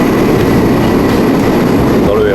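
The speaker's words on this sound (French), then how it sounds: "On est dans le métro là, enfin dans les transports." Steady loud rumble and rolling clatter inside a Paris RER suburban train while riding, a dense continuous roar with a faint rising squeal near the end.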